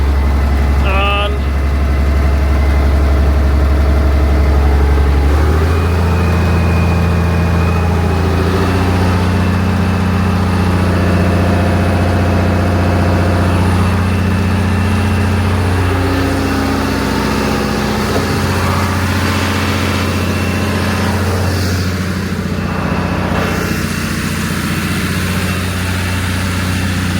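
A farm engine on a cold day rumbles steadily, a loud low idle with a brief rev early on and shifting tones, while a person talks over it.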